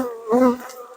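Honeybees buzz around an opened hive during a yard inspection, a brief close insect drone that swells midway and fades, with no talking.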